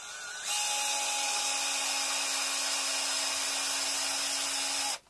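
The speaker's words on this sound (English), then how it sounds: "And then get myself the drill," A power drill bores into the body of an Encore Blaster Les Paul guitar, its motor whining at a steady pitch for about four and a half seconds, close and loud, before stopping abruptly.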